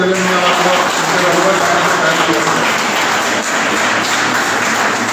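An audience claps continuously for Dr. Santosh at a special lecture on workplace wellness, dense and loud throughout.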